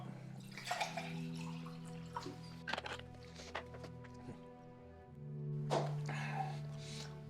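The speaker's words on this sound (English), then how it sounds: "Top up on the old water." Water trickles and splashes into a glass being topped up, in a few short, quiet pours close by, with faint background sounds in between.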